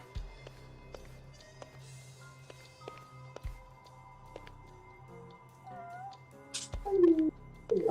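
A cat meows in the video game Judgment: a couple of short, clear meows near the end over quiet game ambience with faint footsteps and taps.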